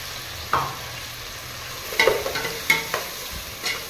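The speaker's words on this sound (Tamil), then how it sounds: "மசாலா அரைச்சிட்டு வந்து கொட்டி இருக்கிறோம். இதை நல்லா வதங்கட்டும்." Ginger-garlic paste ground with cinnamon, cloves and spices sautés with tomato in a pan for country chicken biryani, giving a low steady sizzle broken by several sharp scraping stirs of a spoon.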